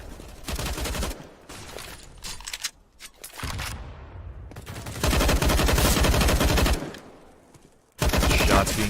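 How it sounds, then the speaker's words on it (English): Gunfire traded through smoke in a CS:GO match: bursts of rapid automatic fire and shots come in clustered volleys with short quiet gaps, loud and close, with no talk over them. "Shots being traded through the smoke."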